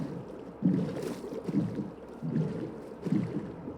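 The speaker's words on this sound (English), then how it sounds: "I took my boat and went across the lake." A boat rowing across a cave lake in Minecraft, heard as four evenly spaced paddle splashes in a steady rhythm, close and alone over a faint background hiss.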